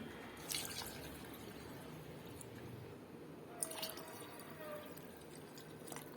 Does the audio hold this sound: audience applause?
no